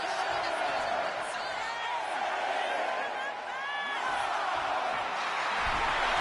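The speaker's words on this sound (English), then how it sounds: "The crowd chanting one more time." Crowd noise from a wrestling video game, the arena audience chanting in steady rhythmic swells with cheers and whoops rising above a dense roar, continuous and loud throughout.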